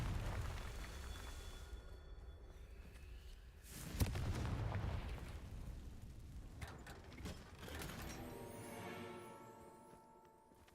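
A Confringo blasting spell goes off in the Hogwarts Legacy video game as a sharp burst near the four-second mark over a dense, rumbling wash of game effects and music, followed by ringing tonal layers.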